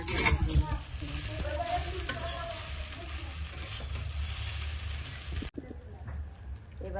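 Vegetarian chowmein with potato, carrot and paneer gets stirred in a pan over low sizzling, with scraping utensil sounds and a sharp clack near the end, fairly quiet and close.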